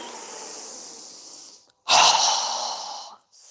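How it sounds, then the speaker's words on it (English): During a yoga breathing exercise, a person takes a long, hissing inhale, pauses briefly, then pushes out a forceful, breathy exhale through the mouth, close and clear with no talking. "exhale through our mouth with a strong exhale as we lower our arms and hands down quickly"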